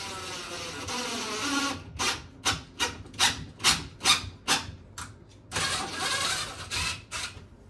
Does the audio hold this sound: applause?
no